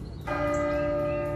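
A church bell rings once in a radio drama, a loud clear strike followed by a sustained, slowly fading tonal hum that carries to the end.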